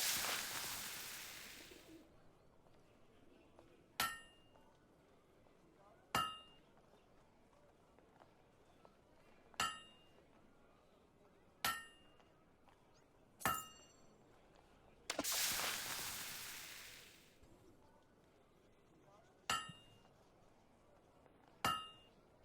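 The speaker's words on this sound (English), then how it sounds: "You know how to use a hammer?" In Fable 2, a hammer strikes a blade at a forge in sharp metallic clangs spaced a couple of seconds apart, with two longer whooshing bursts of hiss between the strikes.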